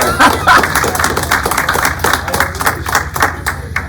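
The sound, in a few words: audience applause at town hall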